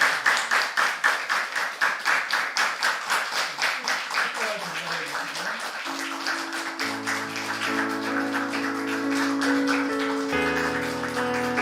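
A church congregation at a Sunday worship service claps in a steady, even rhythm. Sustained keyboard or organ chords then rise beneath the clapping as it fades into the music.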